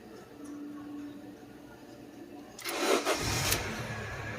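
A Honda City's engine cranks briefly and catches with a loud rising burst, then settles into a steady idle, following a quiet stretch with a faint hum.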